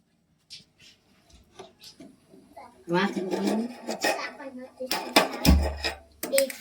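Mava being stirred in a pan on a gas stove, with scraping and rubbing of the utensil against the pan, growing busier and louder partway through, with a voice speaking and a child heard.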